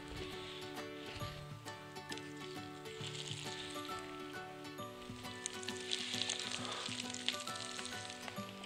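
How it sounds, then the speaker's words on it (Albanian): Shrimp frying in a pan with a little olive oil, a soft, continuous sizzle and crackle heard close up, with a faint tonal hum beneath and no one speaking. "Karkalecin do të lejmë atë dy anë që të skuqet, me pak vaj ulliri, jo shumë vaj."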